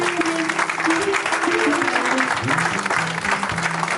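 Congregation in a French-speaking church bursts into sustained applause and cheering for the Lord, a dense, continuous wash of clapping with voices mixed in, loud and filling the space throughout.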